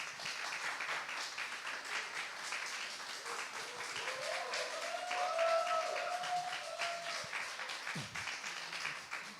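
An audience claps together in a crowded hall, a dense, steady wash of applause lasting several seconds with a brief voice or tone rising through it midway.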